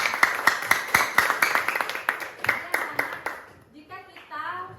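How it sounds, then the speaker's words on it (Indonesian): Audience clapping in a classroom teaching session, a burst of sharp, fairly loud claps over several seconds that thins out and gives way to a voice speaking. "tepuk tangan dulu"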